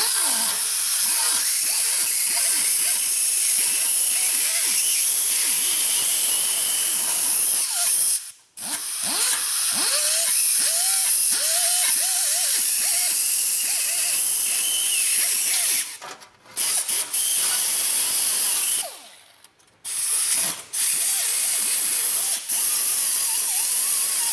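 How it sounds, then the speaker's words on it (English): Power tool grinding rust from the edges of a Subaru Forester exhaust before MIG welding, a loud continuous hissing whine with a few brief pauses as the tool lifts off the metal. "I'm just gonna take and just clean some of this rust off here just on the edges"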